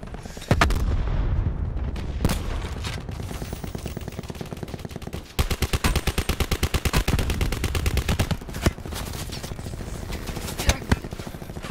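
Dense video-game gunfire, rapid automatic bursts and booming shots rattling almost continuously, loud and close, with a heavier run of rapid fire through the second half.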